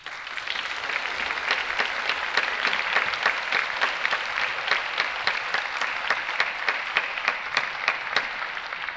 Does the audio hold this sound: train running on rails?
no